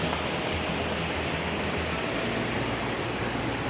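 A mountain stream flowing over large and medium-sized rocks on a Utah trail, a close, steady, full rushing wash of water with no pauses or voices.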